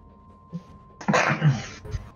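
A single loud, close sneeze bursts out after a brief quiet intake, ending in a short trailing breath, during a tabletop role-playing game session.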